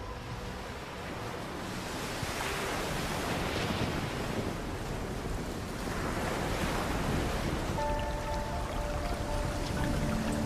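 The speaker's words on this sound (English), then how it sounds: "Huge icebergs carve into a stormy and fast-rising ocean." Stormy ocean surf roaring steadily with crashing waves and buffeting wind, a dense continuous wash of noise at moderate level.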